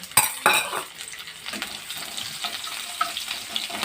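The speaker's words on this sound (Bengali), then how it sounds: "কালো জিরা রসুন আর কাঁচা লঙ্কা ফোড়ন দিলাম" Garlic, nigella seeds and green chilli fry in a pan, opening with two loud metal utensil clanks, then a softer steady sizzle with light stirring scrapes.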